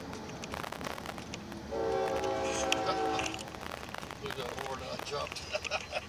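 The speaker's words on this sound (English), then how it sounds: "These train trestles to take the train from New Mexico to Texas across the Rio Grande River" A train crosses a railway trestle over the Rio Grande between New Mexico and Texas, sounding a sustained horn for about a second and a half over rumbling rail noise, while a person talks throughout.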